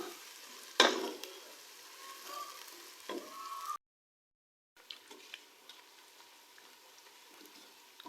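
Ginger garlic paste stirred into onions in a pot for a deghi korma: a steady soft sizzle with scraping stirs and spoon knocks, one sharp clatter near the start, a brief silent gap, then quieter frying.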